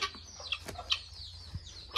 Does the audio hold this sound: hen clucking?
yes